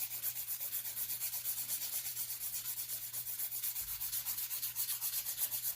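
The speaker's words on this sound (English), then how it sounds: "So I'm just going to come down this way now" A hand file rubs steadily across a fingernail during a steampunk-style nail design, a soft, rhythmic scratchy rasp in quick repeated strokes up close, with no talking.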